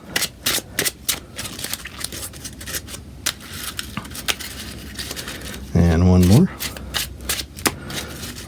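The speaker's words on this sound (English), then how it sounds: "Let's also shuffle our encounter deck while we're thinking about it. Give that a good shuffle." Cards from a Marvel Champions encounter deck are shuffled with quick riffling and crisp snaps, in short bursts followed by a brief whirring buzz; a person speaks briefly.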